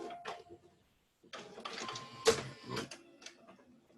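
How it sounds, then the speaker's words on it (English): A home printer acting up with a malfunction, giving off irregular mechanical whirring, clicks and rattling bursts at close range, with a short quiet gap early on before the noise resumes. "excuse me, some technical difficulties here in my printer."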